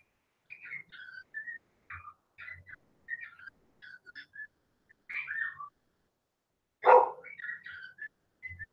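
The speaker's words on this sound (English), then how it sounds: "My dogs are generally pretty quiet and don't bark unless there's something to bark at." A dog barks and yips in short, high bursts scattered throughout, with one louder, deeper bark near the end, fairly close in an otherwise quiet space.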